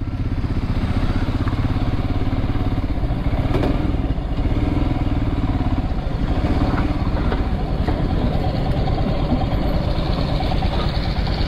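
BMW GS motorcycle engine running steadily up close outside a roadside dhaba, a continuous loud rumble with some clatter and thuds as the bike pulls in and parks, no talk over it.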